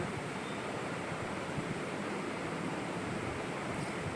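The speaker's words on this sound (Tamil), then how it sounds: "மெதுவடையை ஒன்று ஒன்றா சேர்த்து ஃப்ரை பண்ணிக்கலாம்" Medu vada frying in hot refined oil gives a steady, dense sizzle and crackle that holds evenly throughout, with no voices.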